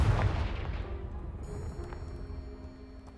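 A Confringo blast spell in Hogwarts Legacy strikes a blocking pile with a heavy booming impact at the start, then a rumbling decay of debris and magical shimmer that fades out.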